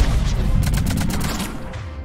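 Cluster grenades going off in the sci-fi shooter Mass Effect 3, a dense, loud run of overlapping blasts and crackling bursts packed into about two seconds, with the rumble slowly fading at the end.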